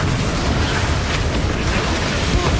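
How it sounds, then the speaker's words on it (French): Dense, continuous booming cannon fire from ships in Assassin's Creed Black Flag blurs into a loud, rumbling barrage, like a battle scene with no pauses. "Faites rugir ces canons jusqu'à ce qu'ils ne caillent en pièces."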